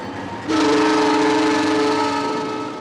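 A locomotive horn sounds one sustained, loud whistle blast that starts abruptly and holds steady for over two seconds, alone without talk.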